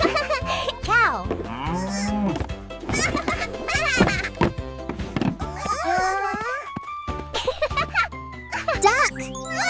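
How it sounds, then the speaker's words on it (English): A cow moos several times, long drawn-out bellows over a light jingle and cheerful children's music, with a voice talking in between. "Cow."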